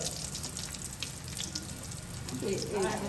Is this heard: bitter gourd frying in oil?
yes